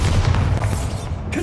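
An explosive Bombarda spell goes off in the Hogwarts Legacy video game, a dense, loud low-end boom that rumbles steadily through the short moment with no talk over it.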